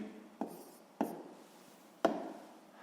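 Pen strokes on paper while writing down a sixth-grade maths answer, three short separate scratches, quiet and close, with no talking.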